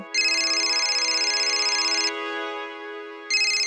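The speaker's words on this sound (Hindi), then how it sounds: "फोन आ रही है" A phone ringtone plays loudly, a bright electronic melody that pauses briefly and then starts again.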